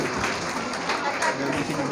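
A crowd at an Islamic educators school event applauds in an ongoing wash of clapping while a voice keeps talking over it.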